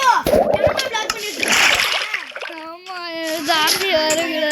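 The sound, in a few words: water splashing in Minecraft video game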